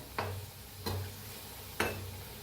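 Three separate soft clacks of a utensil in a pan of pakoras deep-frying in oil, spaced under a second apart, with a low, steady frying murmur between them.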